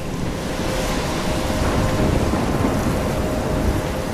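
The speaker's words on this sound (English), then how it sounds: "I'm trapped in a storm?" Stormy weather in the video game Life is Strange: Before the Storm, with a steady, loud roar of wind and crashing waves and a low rumble of thunder filling the scene without pause, and no voices.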